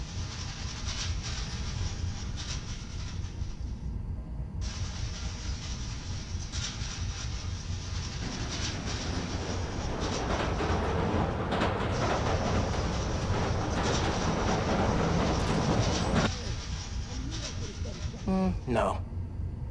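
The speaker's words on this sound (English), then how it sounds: "Need to wait for the train to come by." Subway train rumbling past in the Spider-Man: Miles Morales video game, a steady rail clatter that swells toward the middle and then eases off, with a voice talking over it.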